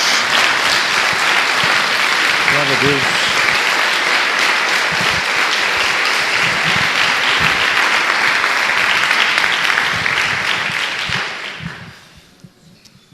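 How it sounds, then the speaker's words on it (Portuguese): A Portuguese-speaking church congregation gives a loud, sustained ovation of dense clapping lasting over ten seconds before tapering off, with a voice briefly calling out early on. "Dê mais uma salva de palmas a Jesus"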